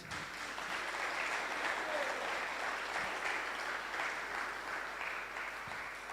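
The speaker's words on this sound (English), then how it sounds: "So I think Jagannath Puri deserves a better round of applause." A temple congregation at an ISKCON Phoenix gathering for Balaram Appearance Day applauds in a soft, continuous wash of clapping, fairly distant and steady from start to finish.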